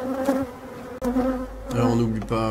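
Honeybees buzz close at a hive during natural swarming, a dense, steady insect drone with individual bees whining past.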